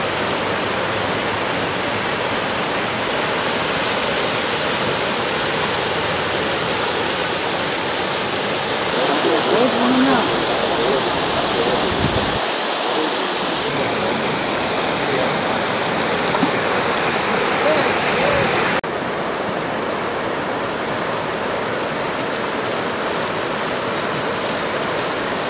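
The flooded Thamirabarani river at Kurukkuthurai, near a Murugan temple, rushes in a loud, steady roar of churning water that fills the whole stretch without a break.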